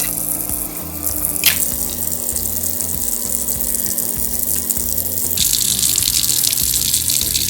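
A kitchen tap runs strongly into a sink while vegetables for soup are rinsed clean of sand and soil, a steady close gush with splashes and shifts in flow as the food is moved under it.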